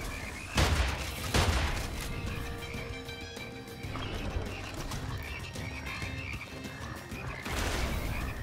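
Frogs croak in the video game Immortal Redneck on the Switch, a loud run of raspy croaks with bursts near the start and end over busy game sounds.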